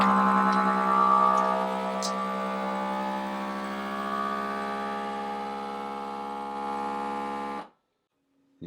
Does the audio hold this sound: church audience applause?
no